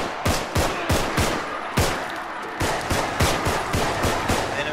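Rapid gunfire in the zombie game Contagion, with a steady stream of loud, evenly spaced shots that keep firing close up for several seconds.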